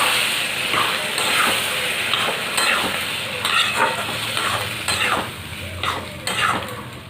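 Boiled dal seasoned with salt and turmeric is poured into frying spices for tarka, setting off a loud sizzle and hiss with the scrape and clink of stirring in the pan.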